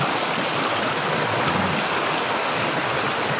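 A stream flows in a steady, close wash of rushing water that stays loud and even throughout, with no voices over it.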